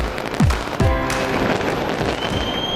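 New Year fireworks over Auckland, New Zealand: two loud booming bursts with rising whistles early on, followed by a continuous crackling wash of distant explosions.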